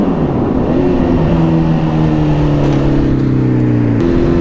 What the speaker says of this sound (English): Tunnel exhaust.